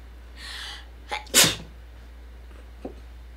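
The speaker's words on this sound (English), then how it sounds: "You sneezed on my cat." A single sharp sneeze, preceded by a short breathy intake, in an otherwise quiet room.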